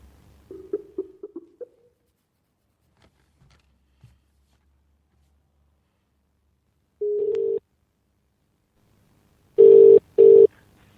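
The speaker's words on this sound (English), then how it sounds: "we're phoning our man Kevin." Outgoing telephone call being placed: a short burst of dialing tones, then after a pause a steady ringback tone sounds once and twice more, clear and electronic, with near silence between.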